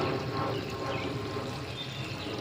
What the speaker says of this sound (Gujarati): ચાલો આપણે પાણી બંધ કરવા આવ્યા, બંધ કરી દઈએ।